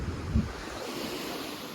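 Surf washes in a soft, continuous roar at Vayari beach with wind buffeting the microphone and one brief low thump near the start.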